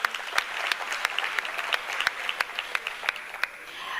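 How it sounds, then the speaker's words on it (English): An audience at a mayoral matric awards ceremony applauds, a full crowd of clapping hands with some sharp individual claps standing out near the front, sustained for several seconds. "Please give them a very large round of applause."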